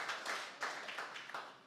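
A church congregation claps for the Lord in a brief run of soft, rhythmic handclaps heard from a distance, with no talk over it.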